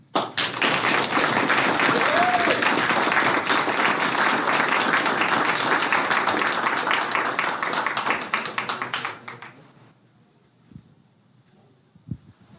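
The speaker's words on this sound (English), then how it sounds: "Round of applause, everyone." Audience applause at a city council meeting during a certificate of recognition presentation, a dense, loud burst of clapping that carries for about nine seconds, then fades out, leaving near silence with a couple of faint thumps.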